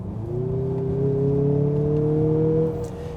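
A Mazda CX-50 Turbo AWD SUV engine revs up smoothly, its tone rising steadily for a few seconds before easing off, close and loud with no talk.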